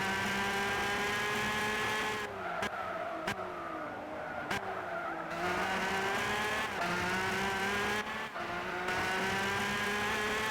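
Race car engine in the video game Gran Turismo 6, a steady high whine with rising and falling pitch as it shifts gears, with brief tire squeal, loud and continuous throughout.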